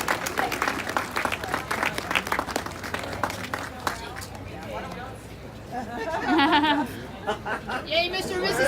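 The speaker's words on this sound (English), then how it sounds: "A round of applause," Audience applause and cheering for President Woodrow Wilson and First Lady Edith Bolling Wilson at an Armistice Day festival, mixed with chatter and laughter, thinning midway before voices and scattered claps return.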